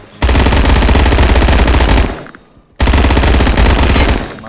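PPSh submachine gun fire in Roblox Phantom Forces: two loud, continuous rapid-fire bursts, the first lasting about two seconds, then a short gap before a second sustained burst.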